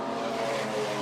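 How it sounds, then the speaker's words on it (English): A race car spins around after going off at turn 3 during a circuit race, a steady rush of engine and tyre noise held at a distance for about a second. "the car has spun around as well"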